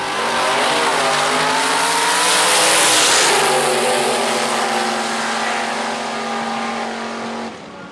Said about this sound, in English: here come the Gassers again